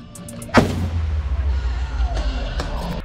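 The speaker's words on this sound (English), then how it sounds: "Grenade, grenade!" An airsoft grenade goes off during outdoor gameplay, one loud sharp bang followed by a long low rumbling tail, with faint shouts and background noise around it.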